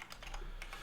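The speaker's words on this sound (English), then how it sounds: "Typing." Rapid typing on a computer keyboard while coding, a quick run of close, light key clicks in an uneven rhythm, heard alone.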